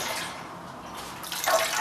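Water poured into the pan of a Kenwood 250 BM bread maker, a steady close splashing pour that grows louder and brighter toward the end, with no talking.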